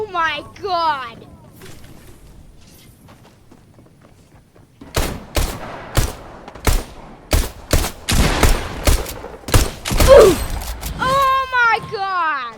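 Shotgun blasts in a shotguns-only round of a first-person shooter game, a string of sharp, loud, irregular shots clustered in the middle, with excited voices talking and shouting before and after.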